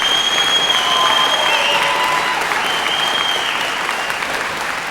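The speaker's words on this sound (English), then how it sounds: "I'd like to ask actually the audience to clap on this, because clapping's a good sign of approval or disapproval." An audience at a school board meeting claps in approval, a steady wash of applause that slowly fades over about five seconds, with a faint whistle-like tone running through it.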